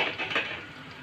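A lid comes off a pan of frying mango for jaggery mango, followed by a brief metallic clatter and stirring over a soft steady sizzle on a medium gas flame.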